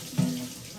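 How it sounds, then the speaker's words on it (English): Tap water running briefly over a can in a kitchen sink, a short close splash that quickly fades. "so we're going to rinse off the can"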